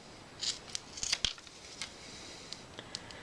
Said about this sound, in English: Go ahead and cut these corners off